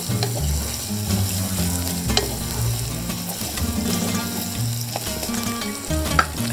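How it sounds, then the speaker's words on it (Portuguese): Rice gently sautéing in olive oil as the base for a Portuguese bean rice, a steady close sizzle with occasional soft stirring scrapes and a low stove hum underneath, no voices. "Vou refogar ligeiramente o arroz antes de começar a juntar o caldo"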